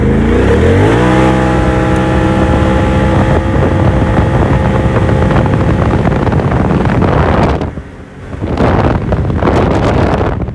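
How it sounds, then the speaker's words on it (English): A 2021 Polaris RZR XP Turbo with a Trinity exhaust and aftermarket clutching accelerates hard in two-wheel drive, its engine roaring loud and close with rising pitch through the run, dipping briefly near the end before surging again amid wind noise. "So here goes a two-wheel drive run."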